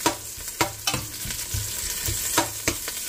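Garlic frying in a pan as the base for sinigang, a continuous sizzle broken by several sharp scraping stirs of the spatula at irregular intervals.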